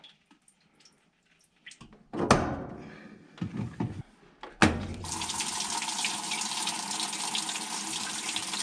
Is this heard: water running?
yes